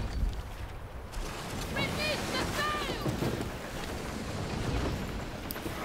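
A sailing ship moves across the open sea in the video game Skull and Bones, with a steady wash of waves and wind and a few faint chiming tones in the game mix.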